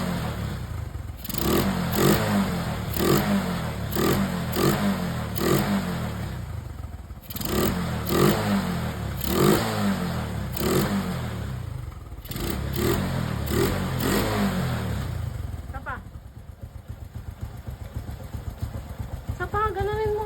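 A motorcycle with a freshly tuned Keihin flat-slide carburetor revs repeatedly on a test drive, sharp throttle blips rising and falling in quick bursts before settling to a rougher, quieter idle near the end.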